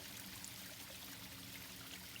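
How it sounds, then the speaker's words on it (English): A small forest waterfall about twenty feet high, probably fed by a spring, gives a steady faint rush and splash of flowing water with no voices. "I stumbled on this little miniature waterfall"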